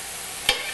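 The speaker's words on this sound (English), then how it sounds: "these onions and this garlic are starting to sizzle" Onions and garlic fry in a pan, a soft steady sizzle with one short, sharp scrape or stir near the end.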